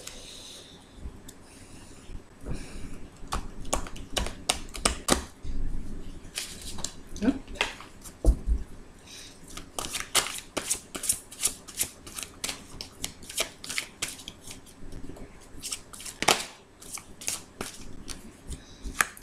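Tarot cards being shuffled by hand, giving a long run of soft riffling and slapping bursts in an uneven rhythm, close and fairly quiet.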